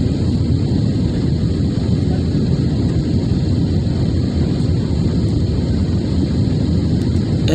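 An airplane landing, heard as a loud, steady, roaring rumble with wind-like noise that holds constant from start to end, with no voices.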